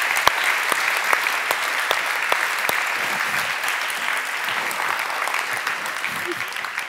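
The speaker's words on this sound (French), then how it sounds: "on peut les applaudir, bien sûr" Steady, dense applause from a French lecture audience for the participants, a continuous crowd clapping texture with a few louder individual claps near the start, no talking.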